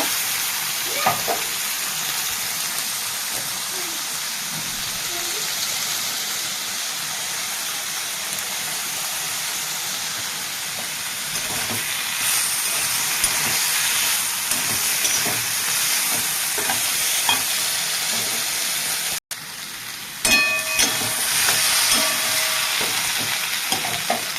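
Mustard and poppy seed paste cooking in a pan for shukto, a steady close sizzle with occasional scraping stirs; a brief dropout near the end, then a busier burst of bubbling and stirring.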